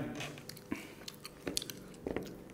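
Close, soft chewing and biting while eating budget street-food chicken biryani, with small wet crunches and irregular mouth sounds and no talking.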